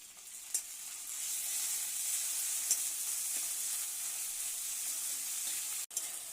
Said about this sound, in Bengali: এর মধ্যে দেব আমি বেটে রাখা আদা, রসুন আর শুকনো লঙ্কা।